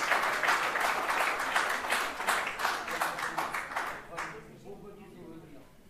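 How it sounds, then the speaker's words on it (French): An audience applauds at the Tonn'Attitude 2025 prize-giving ceremony. Dense clapping fills the first four seconds, then fades away while voices carry on. "Je voudrais qu'on l'applaudisse."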